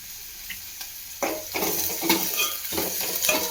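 Chopped onions are stir-fried in a pan to make an egg fry, crackling and sizzling steadily while a spoon scrapes and stirs in irregular bursts, close and fairly loud.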